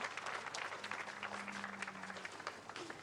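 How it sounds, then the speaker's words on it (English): Spectators applaud at a Yamakoshi bullfighting event. Sustained, dense clapping from a sizeable crowd fills the whole stretch at an even level. "一つ皆さん、今一度大きな拍手をお願いいたします。"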